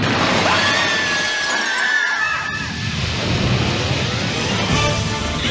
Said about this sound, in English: Just as she's about to speak, Redwood suddenly smashes through the window